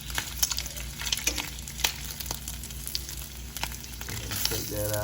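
Bacon frying in a pan, a steady crackling sizzle with scattered sharp pops and light scraping, close and continuous with no voices.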